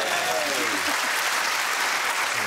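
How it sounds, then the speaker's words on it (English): Lukewarm round of applause from a TV panel show studio audience, a short burst of clapping from a crowd that stays fairly even for a couple of seconds, up close. "Very, very lukewarm round of applause."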